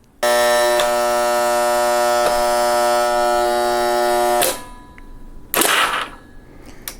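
An electric tape dispenser motor powers up with a steady, loud electric whirr for about four seconds while trying to turn a gear, with a couple of clicks, then stops, followed by a brief hiss and small knocks.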